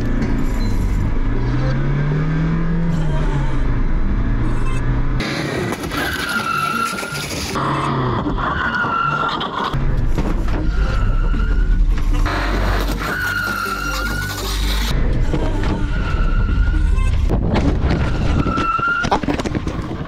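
A Mazda 626 is driven into a Citroën AX, with a loud, continuous engine roar and rough revving, plus bangs and scraping crunches of metal as the cars collide repeatedly.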